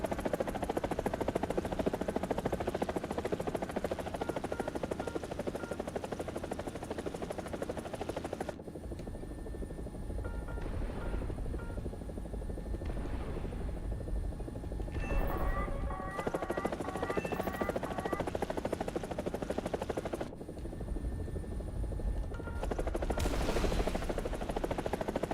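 A helicopter in the game War Thunder drones with a loud, continuous rotor and turbine roar, shifting in tone as the view changes, with faint beeps and distant gunfire-like pops at times.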